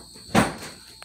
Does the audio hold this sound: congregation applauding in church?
no